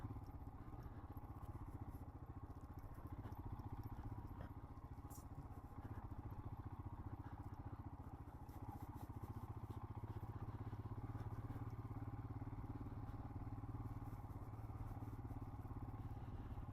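A motorcycle rides a bumpy dirt back road near Lake Mary in Flagstaff, its engine a steady low drone under rattling clatter from the rough surface, fairly faint throughout.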